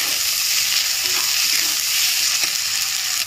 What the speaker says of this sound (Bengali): টমেটো কুচি দিয়ে দিচ্ছি।